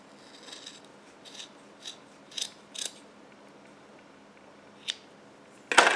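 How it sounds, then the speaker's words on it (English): Scissors snip through the yarn loops of a handmade crocheted pom-pom, making several short, separate cuts at an uneven pace. The last snip is the loudest and closest. No one speaks. "just go right down the center and cut the loops on the opposite side"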